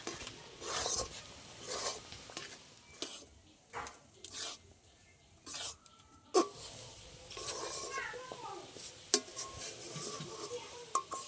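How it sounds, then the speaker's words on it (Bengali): Gujiya dough being stirred continuously in a pan over low heat: a steady, close scraping and rubbing with occasional sharper knocks of the utensil against the pan, with a voice heard at times. "এইভাবে নেড়ে নেড়ে একটা শক্ত ডো হয়ে যাবে তাই একদম হাত বন্ধ দেওয়া যাবে না একভাবে নেড়ে যেতে হবে"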